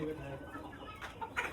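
A hen clucking in a backyard poultry setup with eggs for brooding: close, repeated throaty clucks over a busy background, with faint voices nearby.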